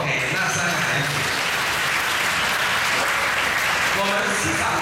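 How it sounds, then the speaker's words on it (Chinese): A church congregation at a Solemnity of Christ the King Mass in Seremban applauds three children, a dense, even round of clapping that fills the room throughout while a voice carries on over it. "拍拍手给那三个孩子"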